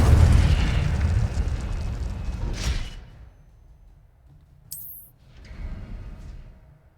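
An Incendio fire spell bursts in Hogwarts Legacy as a loud roaring blast of flame that fades out over about three seconds, followed by a short bright crackle and a softer second rush of fire.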